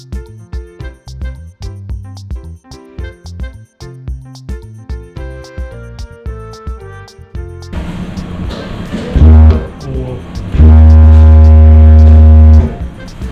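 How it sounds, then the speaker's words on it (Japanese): The steam whistle of the Mashu Maru ferry sounds indoors in Hakodate as two loud, deep, steady blasts, a short one then a longer one, following a stretch of plucked melodic notes. "この汽笛はこの部屋のみにしか鳴り響きません。"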